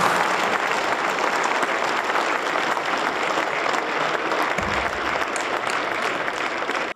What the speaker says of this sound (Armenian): Ես ուզում եմ մի հատ բոլոր տղամարդիկ ոտքի վրա ծափարենք մեծ կանանց